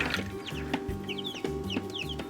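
Newly hatched ornamental chicks peeping in quick, high, repeated chirps close by, over a low mechanical hum with soft knocks underneath.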